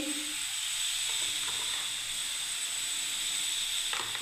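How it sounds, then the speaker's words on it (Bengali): Masala of ground coriander and salt sizzles steadily in a hot pan while being sautéed for a potato gravy, a continuous close hiss with faint stirring scrapes. "মশলাটাকে আমি এবারে কষতে থাকবো ভালোভাবে"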